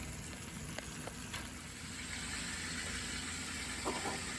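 Chicken frying in a lidded cooker gives off a steady, even sizzle, muffled under the cover, with a few faint clicks and a short rattle near the end.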